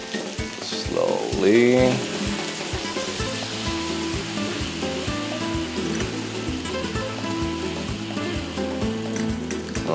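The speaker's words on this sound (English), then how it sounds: "Let's add our vegan stock." Vegan stock poured into a hot paella pan sets off a loud burst of sizzling early on, then settles into steady, close frying and bubbling; a voice briefly speaks.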